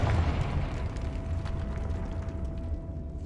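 A Confringo fire spell blasting in Hogwarts Legacy inside a decayed catacomb, with a loud burst at the start that rumbles and fades over a few seconds, leaving a thin steady tone.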